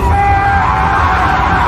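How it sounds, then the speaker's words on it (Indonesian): A man screams in anguish in an action film, a loud, sustained yell that holds for the whole short stretch without a break. "Dia pun berteriak meratapi nasibnya"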